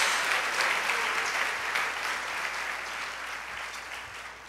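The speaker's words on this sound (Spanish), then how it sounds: "Denle ese aplauso a Dios." Steady, sustained applause from a church congregation fills the space, loud and continuous throughout with no break.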